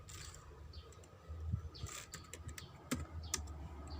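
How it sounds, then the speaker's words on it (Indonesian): Keystrokes on a computer keyboard as networking commands are entered for router interface configuration, a run of quiet, irregular clicks heard fairly close over a low steady background hum. "Kita ketikkan perintah interface"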